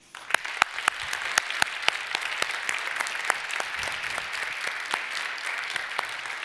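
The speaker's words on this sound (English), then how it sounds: "So I ask you to join me in an applause for all the people that have contributed." Audience applause at a university closing ceremony at Örebro University, steady clapping from a seated crowd with a few sharp individual claps standing out above the wash.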